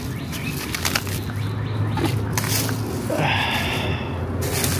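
Birds at a backyard feeder flutter and flap their wings in several short bursts close by, with a few soft chirps over a quiet outdoor background.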